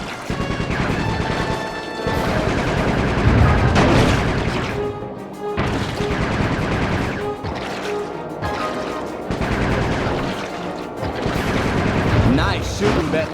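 Gunfire bursts in the PS2 video game Sly 3: Honor Among Thieves, a dense, loud barrage of shots and booms with crashes running through the whole stretch, under game music and effects.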